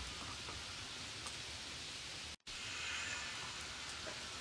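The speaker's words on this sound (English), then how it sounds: "It's rainy." Steady rain falls, a dense even hiss with faint patters, broken by a split-second dropout midway and heard without any talking.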